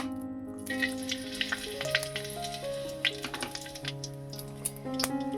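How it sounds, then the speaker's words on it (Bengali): Whole garam masala spices frying in hot oil for a chicken navratan korma, a soft crackling sizzle with light pops and stirring taps, under steady sustained musical tones. "গরম মশলাগুলো একটু ভেজে নেব"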